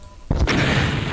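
A rocket launcher fires in Doom, a single sudden loud boom that hits hard and then rolls into a sustained rumbling blast for about a second.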